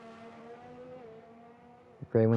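Formula 1 car engines in the F1 2020 racing game, a Ferrari with its rear wing open, drone quietly at a fairly constant pitch before a sudden louder burst at the very end.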